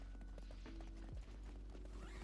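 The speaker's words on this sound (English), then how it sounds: "That horse do be running." Rapid clip-clop of a horse's hooves galloping in a video game, a steady close drumming over a continuous low game hum, with no talking.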